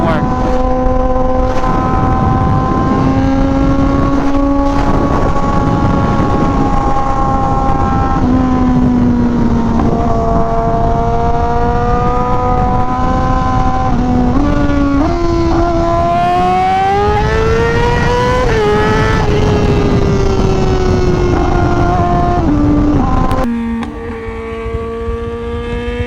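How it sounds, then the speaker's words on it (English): A Honda Fireblade RRR SP motorcycle engine running loud at a steady idle, with pitch rising and falling as it is revved, close to the microphone with some wind buffeting, then dropping sharply near the end. "I definitely think this is one of my loudest bikes."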